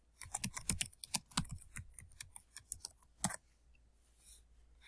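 Rapid keystrokes on a computer keyboard, a quick irregular burst of close, crisp clicks that stops abruptly after a final tap.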